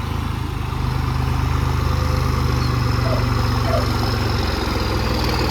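A farm tractor engine runs at a steady idle in a field being readied for paddy, a continuous low throbbing drone that swells slightly after the first second and holds unbroken.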